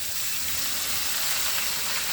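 Ginger paste hits fried onions in a hot pan, giving a steady, close sizzling hiss that holds evenly throughout with no talking.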